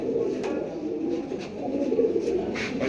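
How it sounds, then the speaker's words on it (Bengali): Pigeons coo steadily and close together in a loft of big red-checked Chuithal pigeons kept for sale, a continuous soft murmuring layer with no clear talk over it. "কবুতরের মতো কবুতর এক জোড়া"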